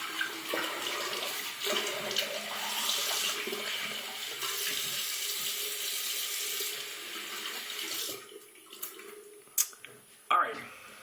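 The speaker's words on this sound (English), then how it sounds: "Quick cold water rinse." Cold water running from a tap into a sink for a rinse during a shave, a steady rushing splash for about eight seconds, then shutting off into a few brief drips and small handling noises.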